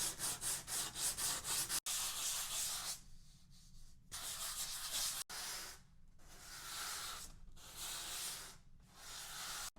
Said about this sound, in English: I'm going to switch over to 120 grit on this sanding block.